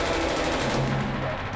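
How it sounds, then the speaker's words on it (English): Gunfire strikes a Guardium military scout robot on patrol in a town, a dense, continuous burst of rapid shots and impacts lasting over a second with no pauses, loud and close. "Gunfire strikes the Guardium."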